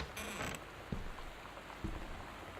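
A door creaks open in Gone Home with a brief, high-pitched creak followed by a couple of soft knocks, all set against a steady backdrop of rain.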